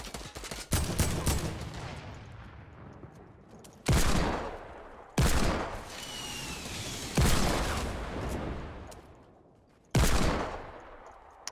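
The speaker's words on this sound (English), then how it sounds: "He's shooting down, shooting down." Fortnite gunfire: sharp loud bursts of shots, about five distinct volleys spaced a second or two apart, each decaying into a ringing tail, with no talk.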